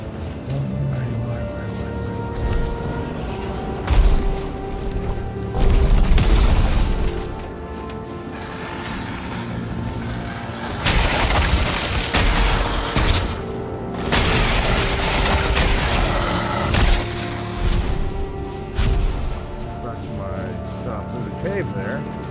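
An exploding enemy in the Ashlands of the video game Valheim sets off booming blasts, with several heavy bursts rising over game noise while someone talks over them.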